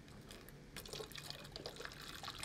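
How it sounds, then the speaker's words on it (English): Water poured from one bottle into another bottle holding a liquid level sensor, a steady splashing trickle that grows fuller and busier partway through, close and alone. "we're going to pour some water into the bottle"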